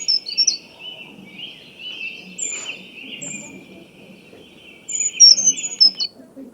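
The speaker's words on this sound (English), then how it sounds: "High-pitched song, the brown creeper." Thin, very high-pitched brown creeper song in short bursts, with soft quiet voices talking underneath.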